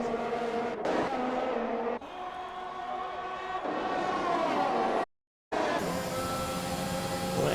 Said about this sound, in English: Well, Egg spins out on the third and final corner, and here comes TV on the inside.